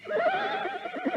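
A horse neighs close by, a loud, wavering whinny that holds steady and then breaks into shorter pulses, with nothing else heard around it.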